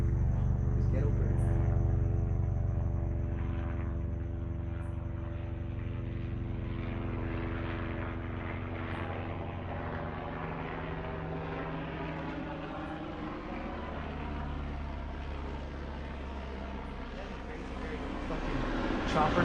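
Rotor-driven aircraft droning steadily and loudly overhead, a low throbbing roar with layered engine tones holding for about twenty seconds, with people talking underneath.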